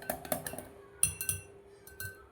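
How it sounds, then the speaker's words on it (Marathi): A beater whisks Maharashtrian mirchi bhaji batter in a bowl, giving a run of quick clinking, tapping strokes of metal against the dish, close and fairly soft, with brief pauses between bursts and no talking. "आता 5 मिनिटं कंटिन्यू याला मी असं बीटरने कंटिन्यू इथे मिक्स करून घेतले"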